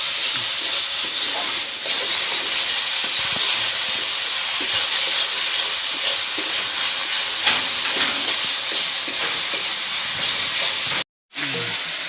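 Water poured into a hot pan of small fish curry, setting off a loud, steady sizzling hiss that runs almost continuously and breaks off briefly near the end.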